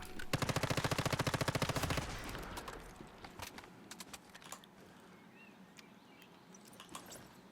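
A submachine gun in the Once Human shooter game fires a rapid burst for about two seconds, tight regular cracks at close range, followed by quieter scattered shots and clicks.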